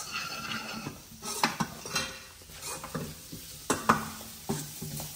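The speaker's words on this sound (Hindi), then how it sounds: "हल्के हल्के अनियन हमारे फ्राई हो गए हैं।" Onions fry in a pan with a steady sizzle while a metal spoon stirs and scrapes, producing irregular clinks and knocks against the pan, close and moderately loud with no speech.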